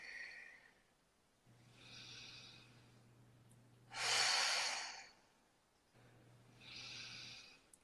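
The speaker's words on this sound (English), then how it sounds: "with every breath in." Slow, deep breaths in and out during a guided meditation, each one soft and airy, with one louder, fuller inhale in the middle, close and quiet with no talking.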